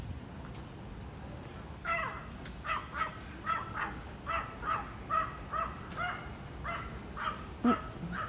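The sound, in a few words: Yorkie dog barking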